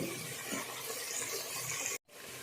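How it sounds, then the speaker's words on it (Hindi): Water added to a pan of frying spices while cooking karhi, a steady hissing, bubbling sizzle that continues, briefly cuts out, then resumes a little softer. "मैंने इसमें 2 से 3 टेबलस्पून पानी ऐड कर दिया।"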